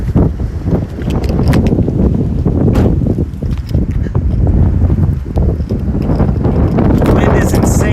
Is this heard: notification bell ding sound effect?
no